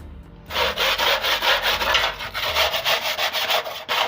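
Steady, close scraping rasps in a fast back-and-forth rhythm, loud and continuous for about four seconds after a brief quiet start, with no voices.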